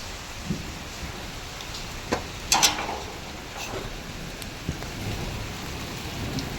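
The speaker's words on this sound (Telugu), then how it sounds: "వర్షం ఎప్పుడు తగ్గుతుంది" Steady rain patters throughout, with a few sharper drops or cracks standing out, and no voices.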